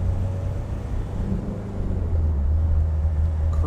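A 1991 Range Rover two-door cruising on the road gives a steady, low in-cabin engine and road rumble that grows a little louder toward the end, with no voices present.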